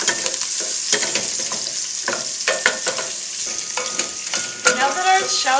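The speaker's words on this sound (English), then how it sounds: "So I'm heating up my oil. I'm going to add shallots." Shallots sizzle in hot oil in a pan, with a steady close crackle and a few sharper pops and spatters over a continuous hiss.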